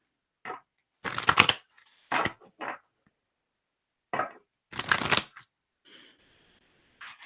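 Kuan Yin Oracle cards shuffled in several separate bursts, crisp riffling flutters near and fairly loud with short pauses between, no talking.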